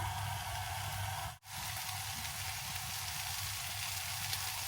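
Capsicum salad vegetables sizzling in a pan with olive oil, pepper and salt: steady, close frying hiss that drops out for an instant, then resumes.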